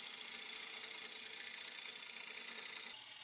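Steady, loud whirring grind of a wood lathe with a bowl blank being roughed, a dense continuous hiss that holds even for about three seconds before easing slightly at the end, with no talk over it.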